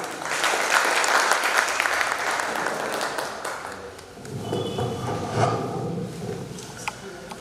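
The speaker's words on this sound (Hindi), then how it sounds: "लीजिए सौरभ चातक आपकी अच्छी ताली के साथ" Sustained applause from a crowd, dense clapping that swells early, dips briefly, then continues with scattered claps and faint murmurs.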